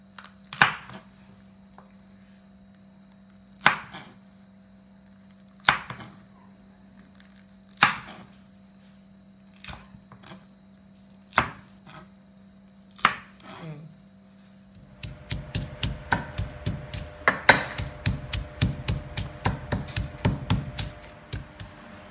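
A knife slices fresh chili peppers diagonally on a board. Sharp single cuts land every two seconds or so, then the chopping turns into a fast, steady run of close, crisp strokes.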